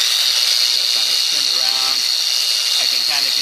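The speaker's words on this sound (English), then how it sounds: "So now it's on orbit sander mode, and I'm going to turn it on" A Bosch 1250DEVS random orbit sander set to orbit mode whirs with a high, steady buzz throughout, close up, while someone talks over it.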